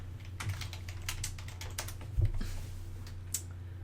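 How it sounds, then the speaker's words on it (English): Close-up typing on a computer keyboard, quick irregular clicks of keys in short bursts, with one heavier thump partway through, over a low steady hum in a quiet room. "Okay, type in lazy eye."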